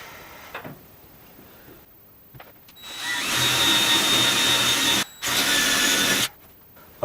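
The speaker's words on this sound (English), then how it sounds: "Once it's up, we can start drilling." A power drill bores holes into a workshop wall while a wall cabinet is being fitted, with faint handling noises first, then a loud sustained whine in two long bursts separated by a brief pause.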